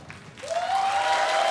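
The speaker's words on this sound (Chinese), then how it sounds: "我们请我们的巫师掌声给他鼓励一下" Studio audience applause during a Nam Wah Pai qigong demonstration on a Channel 8 variety show, starting after a quiet moment and swelling into steady, fairly loud clapping, with a thin sustained whistling tone running through it.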